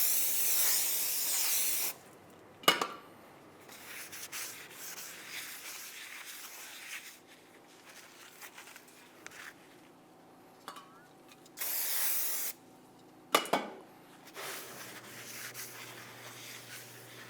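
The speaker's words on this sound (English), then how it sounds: "Start by cleaning the braking surfaces." Brake rotor braking surfaces on a 1998-2002 Lincoln Navigator being spray-cleaned, with two loud, close hissing bursts of aerosol cleaner separated by long quiet stretches of faint rubbing and shop noise.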